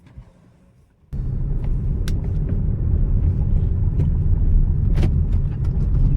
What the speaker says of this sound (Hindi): गाड़ी चलने में तो बहुत ही अच्छा है।